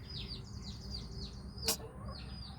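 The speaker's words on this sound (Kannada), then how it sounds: "ಇಲ್ಲಿ ಕಾವಿ ಕೂರಿಸಿದ್ವಿ ಕೋಳಿನ" A Giriraja breed hen sits brooding on eggs, making a series of soft, repeated clucks in a steady rhythm, faint and close, with one brief sharp knock in the middle.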